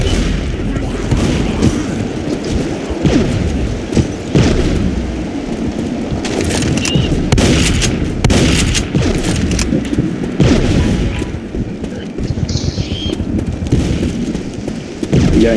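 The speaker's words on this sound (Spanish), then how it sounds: "¿Soy yo o la escopeta suena como si estuviera golpeando puertas siempre?" Shotgun blasts in the zombie shooter Left 4 Dead, a repeated series of loud booming shots over dense game noise, with people talking throughout.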